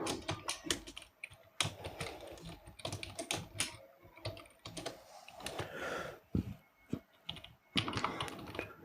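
Code is typed on a computer keyboard in a Turbo-C programming lesson, with quick, irregular bursts of close, fairly soft key clicks and short pauses, with no talking.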